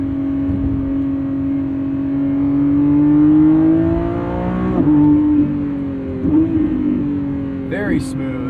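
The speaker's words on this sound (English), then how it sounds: "Downshifts are magical in this car." A Lamborghini Revuelto's V12 drones steadily on a night drive, its pitch rising and then dropping through several quick downshifts with blips, close and fairly loud in the cabin.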